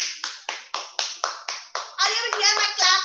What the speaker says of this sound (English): Are you able to hear my clap?